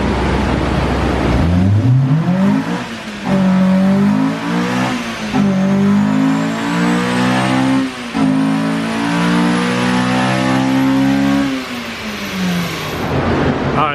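A Honda S2000 pulls hard through first, second, third and fourth gear, its engine note climbing steadily in pitch before a short dip at each of three upshifts, loud and close throughout, with no talking.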